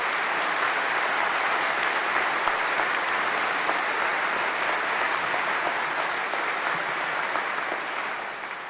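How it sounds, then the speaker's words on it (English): Big, sustained applause from a graduation congregation crowd cheering newly graduated doctorate students, dense clapping filling the hall throughout and tapering slightly at the end. "So I think we should give our doctors, our doctorate students, a huge round of applause."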